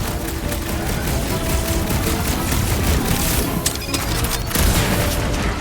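Gunfire in the video game Guardians of the Galaxy, a dense burst of rapid shots and booms over a steady bed of game noise and music, loud and continuous, with no talking.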